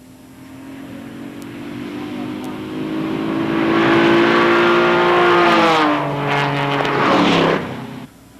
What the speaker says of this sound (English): A 96 Impala SS running in the mid-priced sedan class is gaining on a 95 Z28 in the sports GT2 class